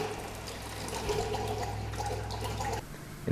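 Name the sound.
water dispensing from OASIS water cooler faucet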